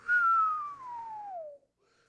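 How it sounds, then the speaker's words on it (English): A single clear whistle made through closed teeth, starting high and sliding steadily downward in pitch for about a second and a half, then stopping, with no other sounds around it. "it's just a whistle."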